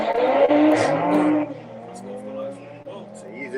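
A race car speeds along a racetrack at a GTI show, its engine note loud and close at first, then fading into the distance while a voice talks over it.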